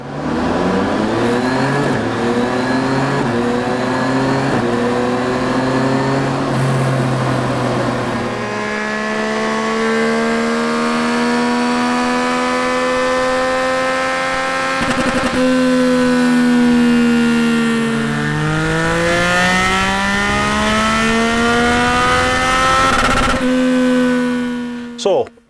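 Decatted Yamaha MT-09 fitted with a Dominator R exhaust, revved loudly and continuously with rising and falling engine pitch through repeated sweeps, close up and dominating throughout.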